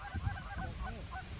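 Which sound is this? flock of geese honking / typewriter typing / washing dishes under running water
flock of geese honking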